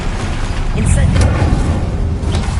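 A fiery Incendio spell cast in the Hogwarts Legacy game gives a dense whooshing roar with low booms and crackles, loud and continuous under game effects, with a voice speaking over it.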